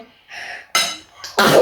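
A short, sharp sneeze burst close by, preceded by a quick breathy intake, then a second hissing burst.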